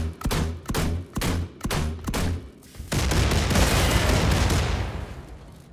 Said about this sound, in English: The Diesel Kraftwerk fires explosive globs which can be detonated at will